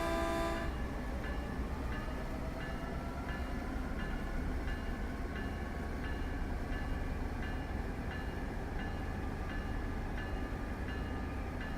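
Train running in Train Sim World 3 on the Arosa line, a steady loud rumble of rolling stock with tonal motor whine, a brief horn-like blast at the start and faint rhythmic clicks throughout.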